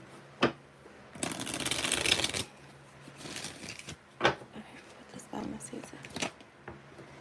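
Tarot cards being shuffled by hand, with soft riffling bursts, a longer dense shuffle in the middle and a few sharp slaps and taps, close and fairly quiet with faint background noise.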